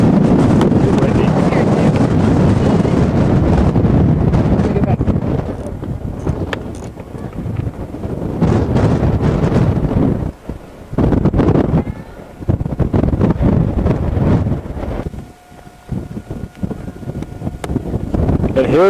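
Strong wind buffets a microphone outdoors near Mount Arbel above Galilee, loud gusty rumble rising and dropping in bursts with brief lulls, with faint voices mixed in.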